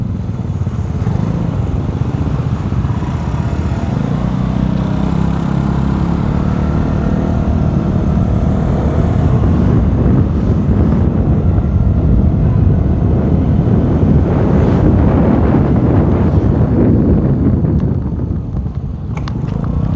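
A Vespa Sprint scooter fitted with a 2 DB Killer exhaust, revved lightly while riding at low speed, giving a steady loud low engine drone with slight swells and no talk over it.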